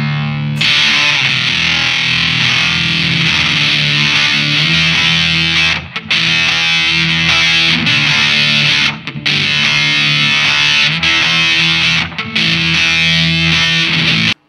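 Loud, sustained distorted electric guitar through a SolidGold FX Aurras optical vibe pedal, swirling, pulsing modulation, holding chords with a few brief breaks between them.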